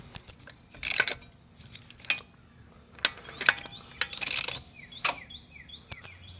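Scattered metallic clicks, clanks and short ratcheting bursts come from work under a 2014-2020 Nissan Rogue AWD as a seized passenger-side CV axle nut is broken loose, with faint squeaky chirps between the hits and no voices.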